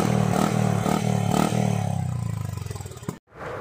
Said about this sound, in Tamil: இப்போ வந்து இன்ஜின் நோட் கேட்டு பாருங்கள் எப்படி